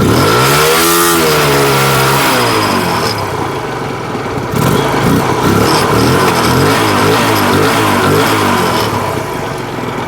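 A loud engine revs up and down repeatedly, pitch rising and falling with each press of the throttle, close by with no talking.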